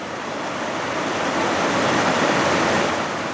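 A small, random waterfall beside a hiking trail in Reisadalen, Norway, pouring crystal-clear water in a steady, dense rush that swells slightly midway, heard close with no voices.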